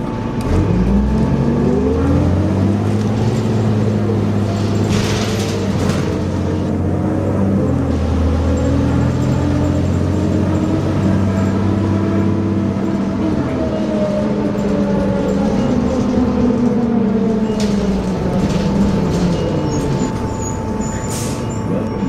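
A 2003 New Flyer D40LF city bus with a Cummins ISL diesel engine runs loudly up close, its pitch rising and falling through repeated acceleration and gear shifts, with a brief hiss of air brakes.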